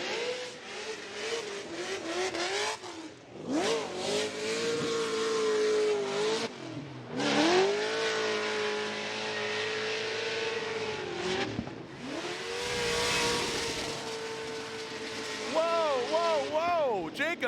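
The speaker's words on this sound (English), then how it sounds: "Listen to this V8 Vortex overcharge" A supercharged V8 in a Nissan S14 drift car revs hard and repeatedly at a pro drifting competition, the loud wailing engine rising and falling across the run with a commentator talking over it.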